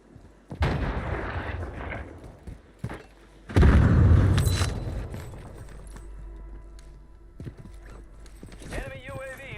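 A grenade blast in the video game Call of Duty Warzone, heard as a loud booming burst partway through among other game effects and rumbling noise.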